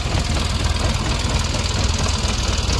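Tractor engine running steadily at slow speed while pulling a groundnut sieving machine in a field, a loud, continuous rumbling drone with rapid knocking pulses and no speech.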